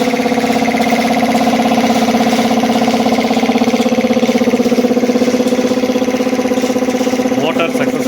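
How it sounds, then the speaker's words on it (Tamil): A single-phase electric motor hums steadily after being switched on through a digital starter, a loud, constant drone with a strong tonal whine that holds even for the whole stretch. "மோட்டார் சக்ஸஸ்ஃபுல்லாக ரன் ஆகுதுங்க."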